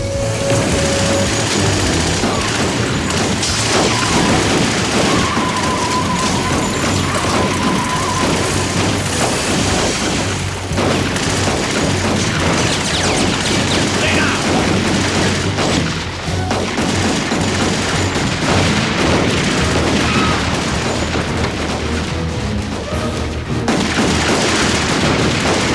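A firing squad lets off a burst of gunfire in a classic gangster TV drama, with dense, loud crackling shots and booms that fill the scene continuously for nearly half a minute.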